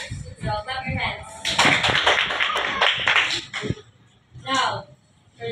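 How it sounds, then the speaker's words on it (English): A classroom group claps their hands together at a teacher's prompt during an English teaching demonstration, a dense burst of many hands lasting about two seconds amid nearby talking voices. "So, clap your hands."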